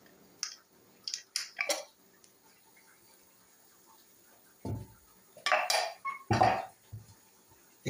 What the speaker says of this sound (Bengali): এটা আমরা এখন মিক্সড ফরমাজ্জোর সাথে মিশিয়ে নেব।